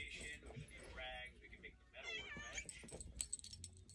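A house cat meows several times, insistent and near, over a low background hum while people talk nearby.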